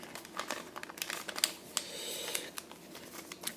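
Paper being folded and tucked while making an origami Zamboni, close soft crinkling and rustling with small crisp crackles throughout, quiet and without talk.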